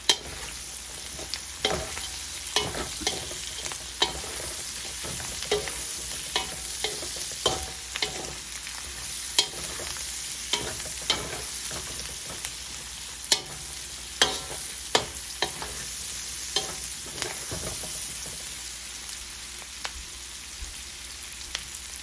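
Carrots stir-frying for pancit bihon hiss in a hot pan with a constant close sizzle, while a utensil scrapes and clicks against the pan at irregular moments throughout; no one speaks.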